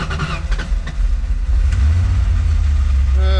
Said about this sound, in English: Then I'll cycle the key. We'll see how she starts up.